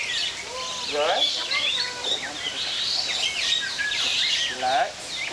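Small birds at a feeding spot chirp and twitter in quick, overlapping bursts, close and lively, with a person speaking at times between the calls.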